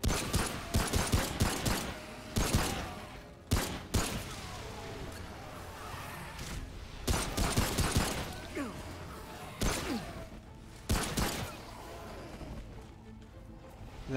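Gunfire in the action shooter Remnant: From the Ashes: rapid clusters of sharp shots in repeated bursts, with fire crackle and a voice between and under the volleys.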